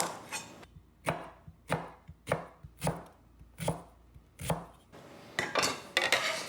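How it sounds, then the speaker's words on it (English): Onion being roughly chopped on a cutting board, about a dozen close, sharp knife thuds in an uneven rhythm with short pauses, ending in a quicker flurry of cuts. "Then we need 1 shallot, roughly chopped."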